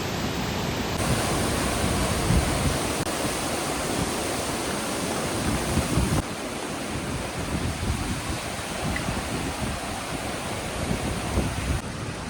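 Water rushes steadily at a tunnel mouth in an Idukki village, a dense, continuous roar of flow like a small waterfall, loud and unbroken with no voices.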